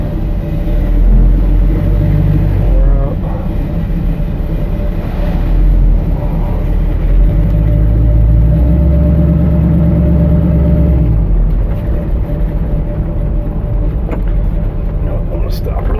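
A 1966 Chevy Nova wagon drives along with its engine running steadily, a loud continuous low rumble and road noise from inside the car, with someone talking over it throughout.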